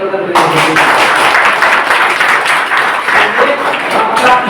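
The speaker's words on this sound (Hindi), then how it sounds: "एक बार ताली" Applause from an audience at an associate training session: dense, steady clapping that starts abruptly and fills about four seconds, with voices blended into the crowd noise.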